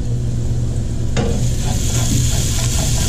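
Ginger sautéing in a pan for Mongolian beef, with a loud, steady, close sizzle throughout and a single brief utensil click partway through, no voices.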